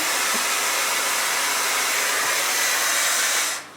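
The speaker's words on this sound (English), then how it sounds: "Now, so far blow drying." A hair dryer blows hair dry for a curly red bob, a loud steady roar that runs without a break and cuts off near the end.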